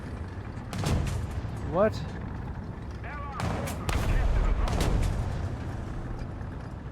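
Tank cannon fire and artillery in War Thunder around an Italian P40 tank, several heavy booms and sharp cracks scattered across a rumbling battle bed, with a player's voice briefly speaking.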